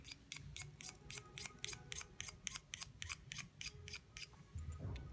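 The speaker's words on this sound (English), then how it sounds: "And then I scrape all of this off." Feather quill scraped clean with a blade, a fast, even series of about fifteen short, crisp rasping strokes, close and fairly quiet, with no talking.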